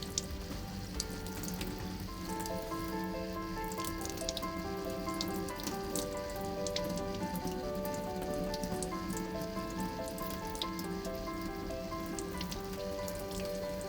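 Dispenser parts of a Miele built-in coffee maker being rinsed under a running tap: a steady, close spatter and trickle of water over the pieces, continuous for the whole stretch, with no talk.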